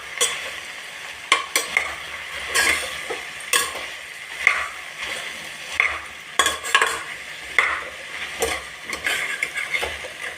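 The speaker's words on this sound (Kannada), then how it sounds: "ಇಲ್ಲಿ ಕಟ್ ಮಾಡಿರೋ ಬೆಂಡೆಕಾಯಿನ ಎಲ್ಲ ಸೇರಿಸಿ ಹುರ್ಕೊಳ್ತಾ ಇದ್ದೀನಿ ಎಣ್ಣೆಯಲ್ಲಿ" Cut okra frying in oil in a pan for bendekayi palya, a soft continuous sizzle broken by repeated scraping stirs and clinks of the spoon against the pan.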